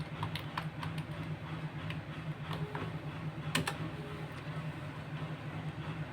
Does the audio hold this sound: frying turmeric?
no